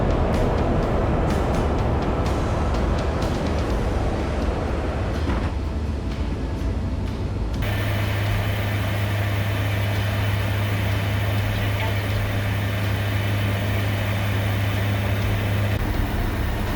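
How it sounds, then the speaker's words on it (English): Cargo aircraft interior descending over the Sonoran Desert with the rear ramp closing, a loud constant engine drone throughout, with a deeper steady hum joining midway as the ramp mechanism runs. "the aircraft begins to descend while the rear cargo ramp is closing"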